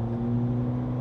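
A 2023 Honda HR-V with a CVT accelerates, giving a steady, close engine drone with strong low hum that holds evenly through the short moment, no talking over it.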